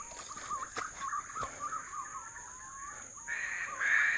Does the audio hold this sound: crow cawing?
yes